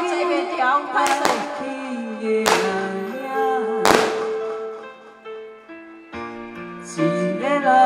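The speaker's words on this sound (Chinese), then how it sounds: "鞭炮哥，尽量摕较后壁遐放好无？" Firecrackers go off in several sharp, loud bursts at a lantern festival evening gala at a temple, mixed with sustained musical tones and voices in between.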